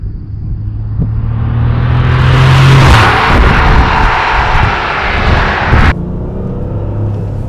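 A 1997 Porsche 993 Turbo S air-cooled engine roars loudly as the car accelerates, a deep rumble swelling into a broad rushing blast that cuts off sharply near the end.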